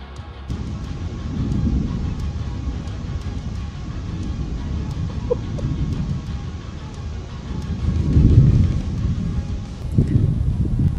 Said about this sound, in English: This storm was intense